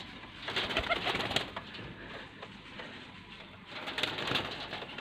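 Pigeons in Faisalabad give soft, low cooing and rustling nearby, in two brief bursts with quieter shuffling in between, all faint and with no speech.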